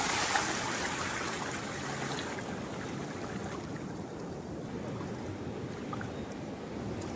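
Sea waves washing onto Chandrabhaga beach at Konark during a new-moon high tide, a steady broad roar of surf at moderate distance with no break.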